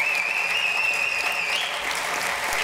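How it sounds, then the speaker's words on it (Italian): An audience at an Italian festival stage show applauds to welcome guest Antonio Frucci onto the stage, with steady, dense clapping throughout, joined by a high whistle that tapers off near the end. "accogliamolo con un applauso, Antonio Frucci"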